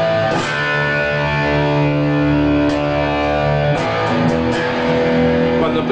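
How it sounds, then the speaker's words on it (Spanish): Electric guitar played through an amplifier set for high-gain distortion, thick sustained chords ringing loud and alone with a few fresh strums. "Si yo seteo el amplificador para un sonido high gain, vamos a suponer que le pongo más distorsión"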